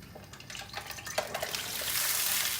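Water hits a hot pan with peppers and sizzles, a hissing wash that swells and grows louder toward the end, with faint clinks of cookware.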